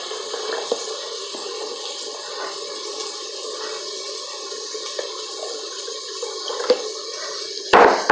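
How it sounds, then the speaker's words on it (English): Water pours steadily into a jar holding leftover salsa, a soft continuous splashing and filling sound at close range, ending with a brief clatter. "And I'll put 2 cups of water in the jar."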